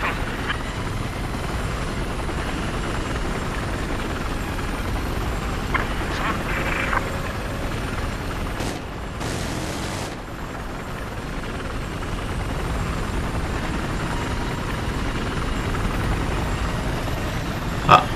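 Helicopter in Battlefield 4 coming in to land: a steady, loud rotor and engine drone that runs throughout, with a few brief bursts and clicks of game effects layered over it.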